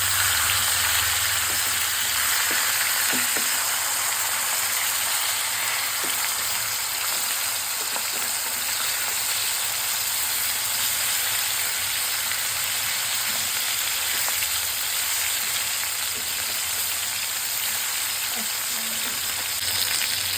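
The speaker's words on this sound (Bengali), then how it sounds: "গরম তেলে এবার মাছগুলো ছেড়ে দিব ভাজার জন্য" Fish fries in hot oil with a dense, loud, continuous sizzle that holds steady throughout, with occasional faint stirring or spatula taps.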